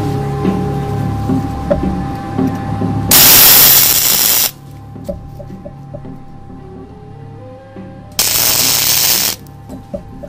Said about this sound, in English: welding isn't very difficult. All you have to do is put a few little spots there and there